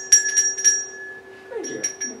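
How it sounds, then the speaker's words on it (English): A volunteer rings a hand bell during a special needs worship service, producing a few quick bright metallic strikes close by, then a softer ring with some faint shuffling. "We ring the bell."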